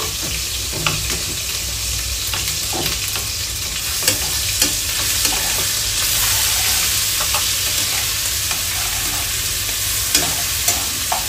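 Ginger and garlic cooking slowly in a pan for restaurant-style fried rice: a loud, continuous sizzle broken by repeated stirring scrapes and clicks of a utensil, with no voices.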